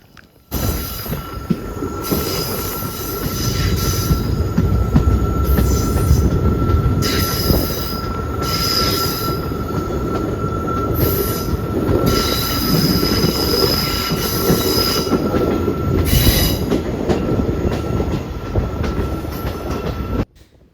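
Train wheels squeal loudly and continuously as railway cars round a large curve on a scenic route, with high-pitched screeches rising and fading over steady rolling rumble and clatter for about twenty seconds, without talk.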